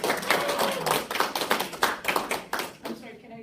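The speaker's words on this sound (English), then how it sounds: "Round of applause for Shelley!" An audience applauds a panelist named Shelley at a comedy business panel during the Siren Nation Festival: a burst of dense hand clapping that thins out and fades over a few seconds, with some voices mixed in.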